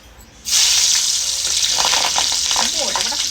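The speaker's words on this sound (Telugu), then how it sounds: "పచ్చిమిర్చి వేసి మంచి వేగి దాంట్లో కరివేపాకు కూడా వేస్తే బాగుంటుంది" A loud sizzle bursts up as green chillies hit hot oil over a wood-fired stove, then keeps crackling steadily with faint stirring sounds.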